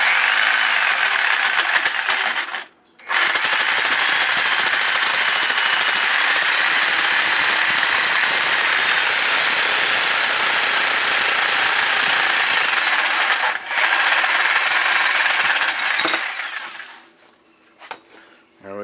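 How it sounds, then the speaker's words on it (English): A reciprocating saw cuts through a metal turbo support bracket on a Mazda MX6, making a loud, continuous harsh buzzing grind. It pauses briefly twice and stops near the end. "Using proper eye protection and a sawzall,"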